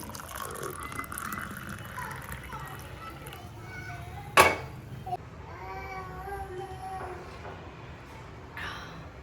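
Hot water poured from a modest distance onto two small spoonfuls of cardamom-flavored weight-loss drink powder in a cup, a steady trickle rising in pitch as it fills, with one sharp clink partway through and children's voices chattering in the background.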